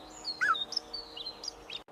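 Small cartoon songbird chirping in a lush forest setting, a run of bright, thin high tweets and short trills close up, clear and alone against a quiet background.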